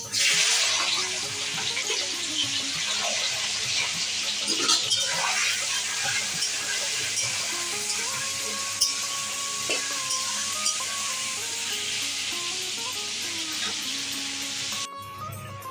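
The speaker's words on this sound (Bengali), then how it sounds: "চিকেনটা মেখে রেখেছিলাম, তেলটা গরম হয়ে গেছে, ভেজে নিচ্ছি।" Marinated chicken frying in hot oil gives a dense, continuous hiss and sizzle throughout, fairly loud and close, with faint tonal hums and occasional stirring sounds underneath.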